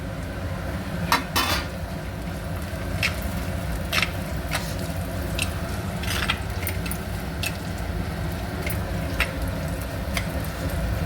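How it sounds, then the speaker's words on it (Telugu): Green chillies fry with browned onions in a pan, giving a steady loud sizzle throughout, with repeated clinks and scrapes of a spoon against the metal. "గోలిన తర్వాత అందులోనే పచ్చిమిర్చి వేస్తున్నాను అండి"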